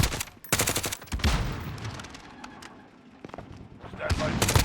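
Rapid bursts of automatic gunfire in Call of Duty hardpoint play, loud crackling volleys at the start and end with scattered single shots between, with voices calling out over the shooting.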